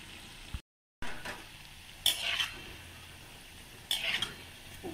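Dal vada fry in hot oil, giving a soft, steady sizzle with a couple of brief louder bursts of bubbling or stirring, close and fairly quiet, with no talk.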